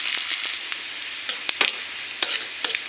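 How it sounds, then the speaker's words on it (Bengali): Olive pickle ingredients frying in a pan, with a soft steady sizzle and several sharp clicks of a spatula stirring against the pan, close and without talk. "আমি এটা ভালোভাবে ভেজে নিচ্ছি।"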